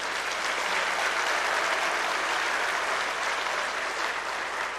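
An audience at a ceremony with the President of India claps steadily for a few seconds, a dense even wash of applause that holds at one level throughout with no voices over it.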